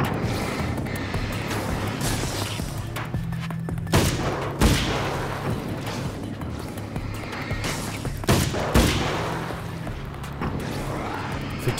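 Carbine gunfire in the video game Alan Wake's American Nightmare, several sharp shots spaced across an ongoing noisy mix of game ambience and effects, loud and close.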